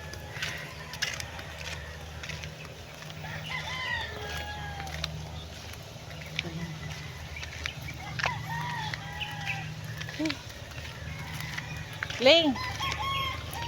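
Chickens cluck and a rooster crows on a farm, with several scattered calls and a louder crow near the end, while people talk nearby.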